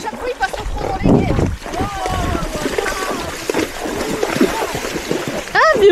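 A horse galloping through a river ford kicks up repeated heavy splashes and churning water, close by, while people talk over it.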